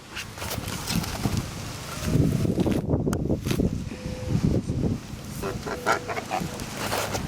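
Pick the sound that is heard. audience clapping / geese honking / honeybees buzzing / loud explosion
geese honking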